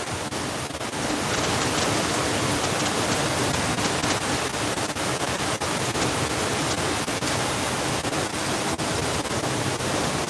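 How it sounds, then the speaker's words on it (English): Heavy rainstorm drumming on a roof, a dense, steady, hissing roar that stays loud and unbroken throughout, with no talking. "Wow, look at that rain."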